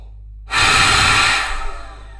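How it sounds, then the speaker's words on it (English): A big, relaxed gust of air blown down through a trumpet as a warm-up exercise: one loud, breathy rush lasting about a second, then tapering off, heard alone with no talking. "take a nice full relaxed breath and just blow a big gust of air down through the trumpet"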